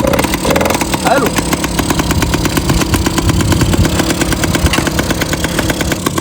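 A motorcycle engine runs close by with a steady, buzzy, rapid chugging throughout, while people talk loudly over it.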